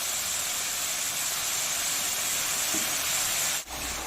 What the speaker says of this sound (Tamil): இப்போ நல்லா எண்ணெயிலே நல்லா வதங்கட்டும்